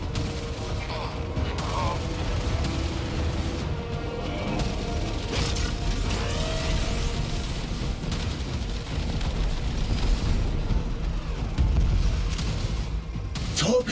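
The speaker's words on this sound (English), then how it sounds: "Torpedoes away!" Torpedoes launching from a ship in Warframe: a dense, continuous mechanical clatter with ratcheting creaks and bursts of rapid fire, loud and sustained throughout.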